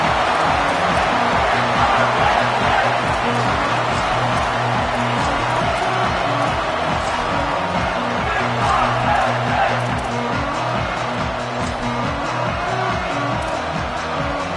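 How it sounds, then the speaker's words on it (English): A home football crowd roars continuously after a Nittany Lions touchdown, a loud, sustained stadium cheer with whoops and band-like tones underneath. "And the home crowd here is unhinged."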